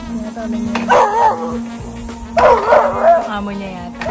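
A dog in the Swiss Alps around Grindelwald gives two bursts of yelping, whining barks, close and fairly loud over a steady hum.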